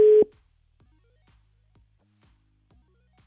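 Telephone tone while calling a contest winner: one short, loud beep followed by faint, evenly spaced clicks on an otherwise quiet line.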